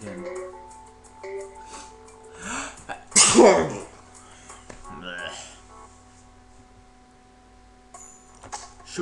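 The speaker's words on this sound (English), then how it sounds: "I gotta sneeze again." A single loud sneeze bursts out in the middle, with faint clicks and quiet background sounds around it.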